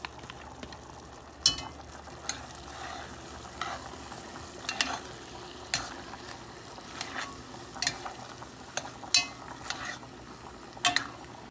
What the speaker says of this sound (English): just adding in our cooked and drained macaroni noodles to the mixture